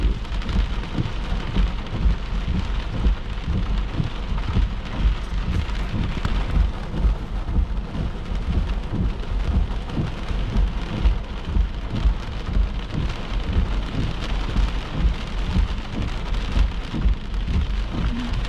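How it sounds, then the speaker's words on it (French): Heavy thunderstorm rain in Lanaudière, Quebec, pours steadily and loudly, a dense continuous hiss with drops drumming on surfaces and occasional low rumbles underneath. "Ok, là les précipitations baissent."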